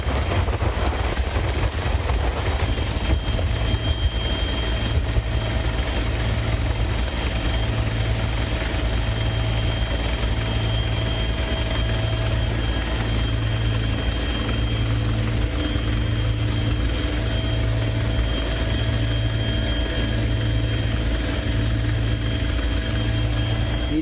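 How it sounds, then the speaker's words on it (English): Sri Lanka Air Force Bell 412 helicopter on a sea rescue in adverse weather off Balapitiya: a steady rotor drone with a regular low beating pulse, continuous and fairly loud throughout. "the Sri Lanka Air Force promptly deployed a Bell 412 helicopter to rescue 3 fishermen"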